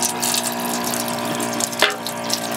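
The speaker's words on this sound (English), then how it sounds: "then you turn on the tap" A tap running into a sink, a continuous close hiss of flowing water with a faint hum beneath and a brief splashy burst partway through.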